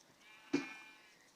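A single short sheep bleat from Minecraft, sharp and clear at mid-clip over a faint, quiet background.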